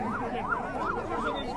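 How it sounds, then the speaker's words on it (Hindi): An ambulance siren wails on a city street in a steady up-and-down two-tone sweep, cycling about every third of a second, loud and close over a constant traffic hum with no talk. "एम्बुलेंस को रास्ता दें"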